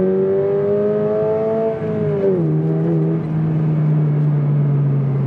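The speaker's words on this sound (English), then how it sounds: "I think it's a pretty good sounding engine, if you ask me." Engine of a 2022 Subaru BRZ accelerating, a loud, smooth rising drone heard from inside the car that climbs through two gear shifts, each with a brief dip in pitch, then settles into a steady lower hum, with no talk.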